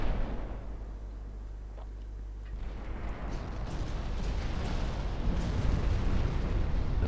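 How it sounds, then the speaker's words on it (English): Heavy naval guns fire in a 1947-era warship game: a deep booming blast opens, then a long rolling rumble swells and lingers, with no talk over it. "Poseidon can now target the enemy heavy cruisers with its main guns."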